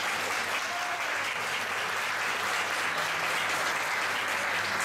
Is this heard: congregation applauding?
yes